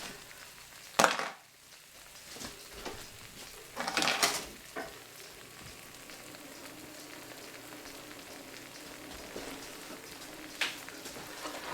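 Vegetarian sloppy joe sauce simmering in a pan, a quiet low sizzle with a few sharp scrapes and clatters of a utensil early on, then mostly soft steady cooking.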